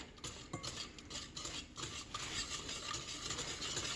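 A whisk stirs evaporated milk for a Christmas pudding, giving a rapid, continuous swishing and scraping against the bowl, close and steady, with no talking.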